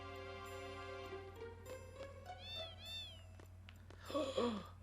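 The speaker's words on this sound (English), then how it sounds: "Was that a kitty cat?" A cat meows several times in the video game Final Fantasy VIII, the short rising-and-falling cries sounding over a steady low hum and a tonal game melody, followed by a brief louder burst of game effects.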